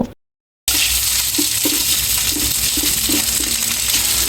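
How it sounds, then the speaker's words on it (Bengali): After a brief silence, homemade sausages fry loudly in oil: a constant bright sizzle with small ticks and clinks of stirring scattered through it, and no speech. "এখন আমি পানি থেকে তুলে তেলে ভালো করে ভেজে নেব"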